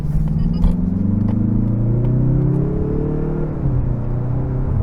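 A 2023 Mazda 3 Turbo hatchback with a six-speed gearbox accelerates hard, its engine note rising steadily in pitch, easing briefly at a shift and climbing again, a loud continuous drone heard from inside the cabin with no talk.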